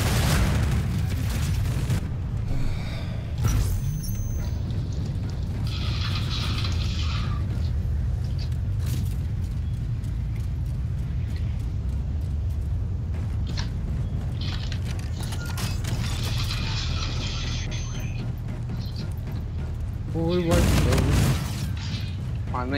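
Video game explosions boom repeatedly under a dense, steady wash of game noise, with players talking throughout and sharper bursts standing out now and then.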